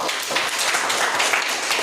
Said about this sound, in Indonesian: Mari tepuk tangan untuk Fade.